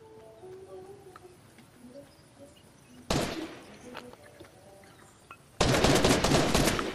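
Fortnite gunfire on PS5: a quiet stretch with faint distant noises, then a sharp loud burst of shots midway and a sustained volley of rapid close fire near the end.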